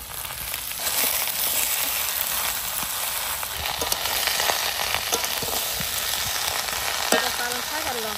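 Cabbage and cauliflower fry in a pan, a steady, dense sizzle that runs through with occasional stirring scrapes and crackles, close and moderately loud, with no voices.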